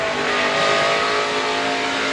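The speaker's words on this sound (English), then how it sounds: "You can hear the rear tires spinning on that 29 truck." Rear tires of the number 29 racing truck spinning at the 2014 American Ethanol 200, a loud sustained engine roar with steady tonal whine, close and continuous.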